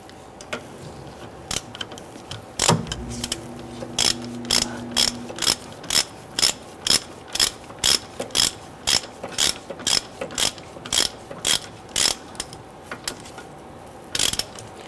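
A ratchet wrench tightens the bolt on a rear center brake hose block of a 1994-2004 Jeep Grand Cherokee, giving a long run of regular, close, crisp clicks after one louder clank near the start.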